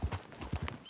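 Horse hooves clip-clopping in Red Dead Redemption 2, a quick run of distinct close hoof knocks in an uneven walking rhythm, alone without talk.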